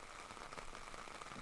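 Steady rain patters across a footgolf course at a youth world cup event in Germany, a soft, even hiss of drops with faint scattered taps and no voices.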